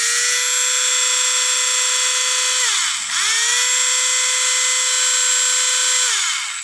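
A Tamiya 74041 handy drill with a precision bit whines loudly and steadily up close, briefly spooling down and back up in the middle before winding down at the end.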